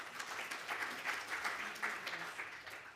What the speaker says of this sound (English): Big round of applause for Patricia, please.